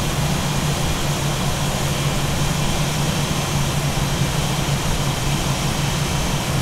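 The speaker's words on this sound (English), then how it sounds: "Spoilers down. Engines back to idle." Airliner engines on an A320 in a flight simulator game winding down toward idle, a steady loud broadband roar with a low hum running unchanged throughout, no voices.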